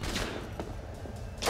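Gunfight in the video game Cyberpunk 2077, with a few sharp shots cracking over dense, noisy game ambience and a louder burst right at the end.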